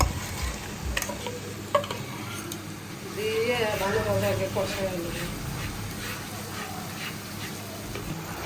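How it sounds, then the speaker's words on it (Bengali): Spices being fried and stirred in a pan for a chicken roast, a soft steady sizzle with occasional spoon scrapes, moderately faint, with voices talking over it partway through. "মুরগি ভাজা শেষে এখন মশলা কষায় নিচ্ছি"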